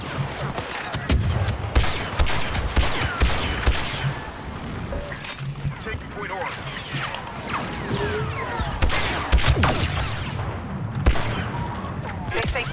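Rapid bursts of blaster gunfire from a Star Wars Battlefront match crackle almost nonstop, mixed with impacts and mechanical game effects at a steady, busy level.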